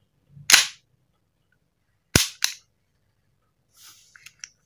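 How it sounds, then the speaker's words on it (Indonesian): Gas blowback shots from a WE Beretta M9A1 airsoft pistol: three sharp, loud reports, one single and then a quick pair, each with a snappy slide cycle, followed by faint mechanical clicks. "Blowback, suaranya luar biasa,"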